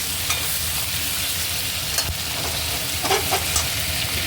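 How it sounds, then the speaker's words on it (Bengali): Tomato fries with ginger and spices in a pan for a Bengali bhetki and cauliflower curry, giving a steady, close, loud sizzle with faint scrapes of stirring and no talk. "আদাটা একটু ভাজা হয়ে গেছে বা টমেটোটা দিয়ে দিলাম"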